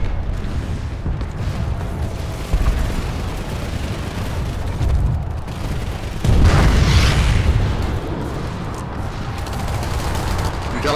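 A heavy mine detonation booms out in the Planetside 2 video game, a single loud blast rising over a steady backdrop of distant gunfire and battle noise.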